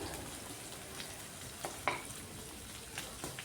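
Sliced onions for beresta fry over full gas flame for chicken keema biryani, a faint continuous sizzle with occasional soft stirring clicks and taps, no voices.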